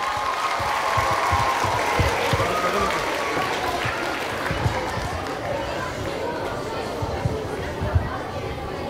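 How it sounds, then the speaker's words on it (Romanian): A crowd claps steadily and energetically at a school debutante gala in Chișinău, mixed with lively chatter and cheering voices throughout. "Haideți să-i aplaudăm!"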